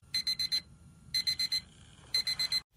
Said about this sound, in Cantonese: 例如鬧鐘聲